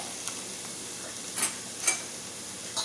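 Onions fry over high heat in a pan, a steady soft sizzle with a few sharp crackling pops rising above it.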